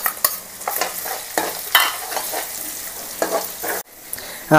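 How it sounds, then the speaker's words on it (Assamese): Chopped onions sizzle steadily in hot oil with ginger and garlic for a chicken biryani, while a spoon scrapes and stirs through them in repeated strokes, ending with a brief pause and a louder stir. "এতিয়া পিঁয়াজখিনি পুৰা ধুনীয়াকৈ ব্ৰাউনকৈ অলপমান ফ্ৰাই কৰি লৈছোঁ"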